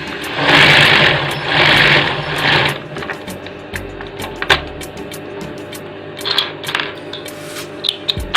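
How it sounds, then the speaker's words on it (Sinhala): Sewing machine winding elastic thread tightly onto a bobbin, a steady mechanical whir close by that runs in strong bursts at first, then continues as a quieter hum with scattered ticks and clicks. "මේ ඉලාස්ටික් නූල මේ විදිහට බුරුලට නැතුව තදට මේ බොබින් එකට ඔතා ගන්න ඕනේ."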